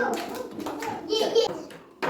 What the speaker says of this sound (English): Clap for Yuvraj.